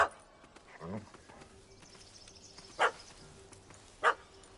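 A puppy in the video game The Witcher 3 gives a few sharp, separate barks, with one near the middle and one near the end, after a brief voice at the start, over quiet ambience.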